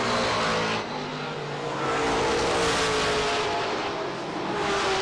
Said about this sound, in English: First 3 cars run 1, 2, 3 as they come around to get the white flag.